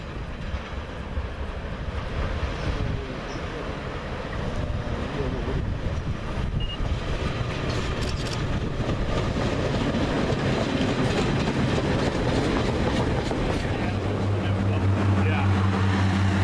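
A train passes on the railway line at Swinton. A steady, moderately loud rumble with faint rhythmic clatter fills the whole stretch, and a low droning hum swells near the end.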